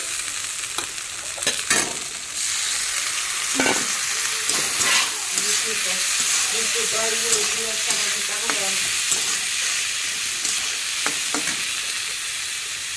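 Greens, green chilies and boiled bean seeds frying in a pan, giving a loud continuous sizzle after a few sharp clatters of ingredients going in, with intermittent scraping strokes of a spatula.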